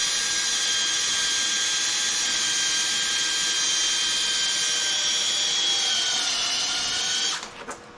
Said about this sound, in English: I got the drill going.